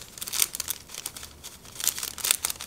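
Soft crinkling and peeling of dust removal stickers being handled during a Whitestone Dome glass screen protector installation on a Galaxy Z Fold 5, in quiet irregular bursts with no talking.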